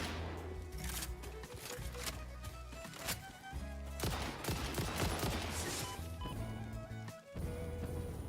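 Loud, rapid bursts of gunfire aimed at hatters in Satisfactory, layered over busy game sounds with uneven pauses and renewed volleys throughout.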